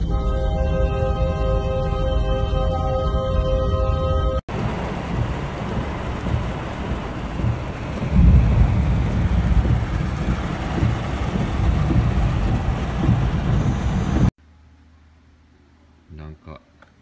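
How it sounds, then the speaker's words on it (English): Typhoon Opong in the Philippines brings heavy rain and strong winds, a loud, dense roar of downpour and gusts that follows a short musical intro. The roar cuts off abruptly into near silence with a few faint knocks. "brought moderate and heavy rain and strong winds to many areas in Luzon and Visayas"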